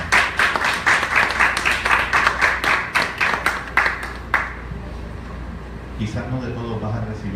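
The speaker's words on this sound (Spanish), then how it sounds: "Eso se merece un aplauso al Señor." Church congregation clapping in a quick, strongly rhythmic unison beat for several seconds, then the clapping stops abruptly and a voice speaks over faint room tone.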